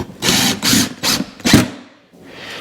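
A power drill drives drywall screws through a scrap drywall patch into wooden backing strips, giving four short, close, whirring bursts in quick succession, then a fainter final spin.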